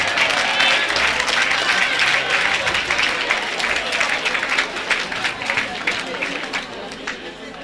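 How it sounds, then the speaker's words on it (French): An audience at an evangelistic gathering applauds and cheers for Cameroon, loud sustained clapping mixed with crowd voices that gradually tapers off. "Acclamez pour le Cameroun."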